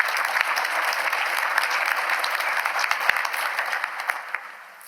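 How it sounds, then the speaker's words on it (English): Sustained applause from a large audience honouring a group of students, steady dense clapping that holds for several seconds and fades slightly near the end. "So let's give them a round of applause."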